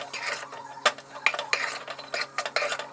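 Boiled medium-sized potatoes are mixed for aloo bonda with a spoon in a metal vessel, making close clinks and scrapes in an uneven rhythm with no talking.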